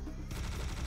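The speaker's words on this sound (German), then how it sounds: "Jetzt mach ein bisschen Kanonen-Attack." Heavy cannon fire from the weapon in Serious Sam: The First Encounter HD, a dense burst of rapid booming shots starting after a brief lull and continuing loud and steady with no talk.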